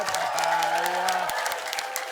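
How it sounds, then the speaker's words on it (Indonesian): A studio audience at an Indonesian comedy variety show claps in a steady, loud patter of applause, with a voice briefly heard over it. "Oke, tepuk tangan untuk Bang Mali, Pak Mola, dan Pak Jojon."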